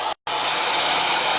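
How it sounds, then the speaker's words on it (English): A handheld hair dryer blows on a painted pail in a steady, loud whooshing roar that cuts out briefly near the start and then runs on continuously. "I'm going to take the hairdryer here"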